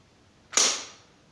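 A single sharp mechanical click from the dry fire of a Soviet Red Army firearm, the PPSh submachine gun, trigger released on an empty chamber: one brief snap with a short fading tail, close and isolated in quiet.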